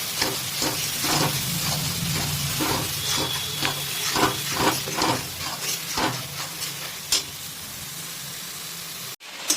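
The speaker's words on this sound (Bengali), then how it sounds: "দেখুন এটা 5 মিনিট প্রায় আমরা এইভাবেই কিন্তু ভাজলাম, জাস্ট এই দেখুন হাই ফ্লেমে" Onion paste frying on a high flame, a dense steady sizzle with crackles and scraping stir strokes, close and loud throughout.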